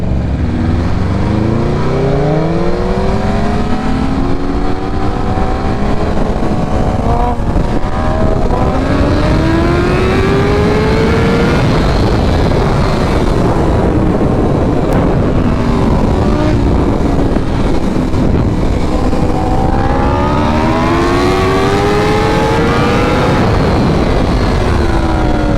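BMW S1000RR and M1000RR sport bikes accelerate hard in a roll race from light to light. Loud engines climb in pitch through several gear changes, drop, then rise again in one continuous roar with no talking.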